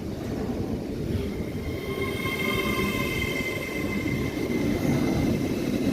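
An LNER train at Doncaster station running on the rails, a continuous rumbling roar with steady high tonal whine and faint wheel squeal, fairly distant and constant throughout.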